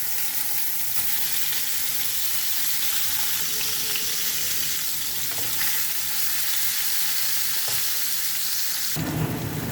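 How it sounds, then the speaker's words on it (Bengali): Rohu fish frying in hot oil in a frying pan, a steady loud sizzle and crackle filling the whole stretch with no talk, with a brief change near the end. "তেলটা গরম হয়ে গেছে, এখন দিয়ে দেব মাছ।"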